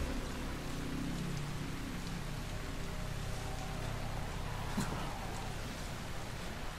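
Rain falls steadily in the video game Dying Light, forming an even, continuous hiss of drops with a low rumble beneath and no voices.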